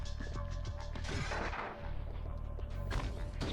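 Enemy gunfire in Ratchet and Clank during a Quark boss battle on PS2: dense, loud blasts and crashing impacts in rapid succession over a steady game soundtrack, with no talk.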